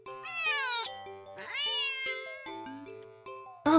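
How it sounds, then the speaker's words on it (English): A cat meows repeatedly in long, sharp, wavering calls, loud and close, ending with a brief metallic clatter. "the cat meows sharply at you and dashes off around the corner"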